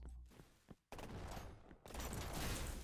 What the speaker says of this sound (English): Burst rifle.